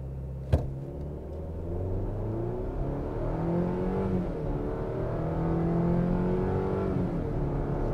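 A 2023 Chevrolet Colorado TrailBoss with a 2.7-liter turbo four-cylinder accelerates hard from a standstill, its engine droning and climbing steadily in pitch through the gears, heard from inside the cabin after a brief click.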